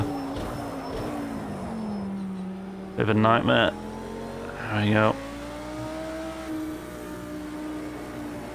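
A GT3 race car in Project Cars 2 hums along under engine drone, then two short stuttering bursts of traction control cutting in break up the engine note as it corners; someone talks over it.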